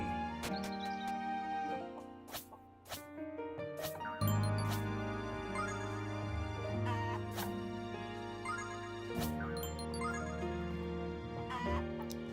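Pero, the chicken-like creatures in the video game Phoenotopia: Awakening, cluck while being fed. Small clucks and ticks sit under bright, continuous game music for several seconds.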